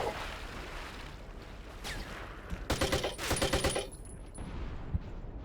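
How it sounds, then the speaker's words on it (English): Bursts of automatic gunfire from hip firing in the video game Battlefield Vietnam, a dense rapid volley of shots for about a second followed by scattered further rounds against a steady battlefield background. "I'm good enough at hip firing to show these Americans a thing or two."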